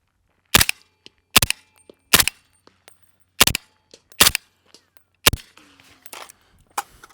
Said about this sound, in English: And I want to shoot that trash over there.